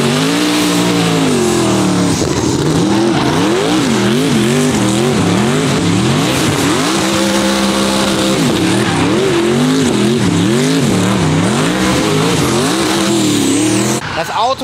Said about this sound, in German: Das Auto ist im Drift.